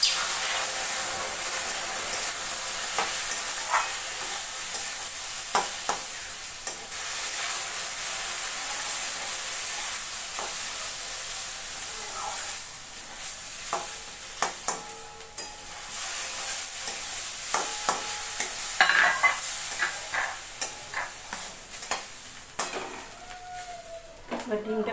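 Semolina pulao, a Bengali breakfast dish with sugar, being stirred and toasted in a pan, giving a steady dry sizzle with scattered scraping clicks of the spoon throughout, fairly close.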